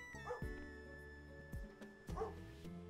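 Cartoonish dogs in the video game Pupperazzi give a few close, high yips and bow-wow barks in short separate bursts over a steady background game soundtrack.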